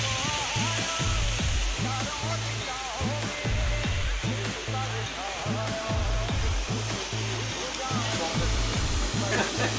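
Sahasrakund waterfall pours in a steady, loud rushing roar after the first rain, a dense unbroken wash of falling water with a rhythmic pulsing tone layered over it.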